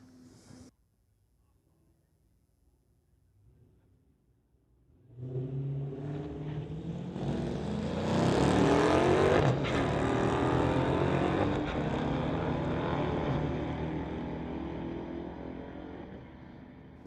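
A 2013 Dodge and a 2010 Dodge, each with a 345 Hemi, drag race at a Mopar street-legal event. After a few quiet seconds the engines erupt into a loud, sustained roar that swells and carries on to the end.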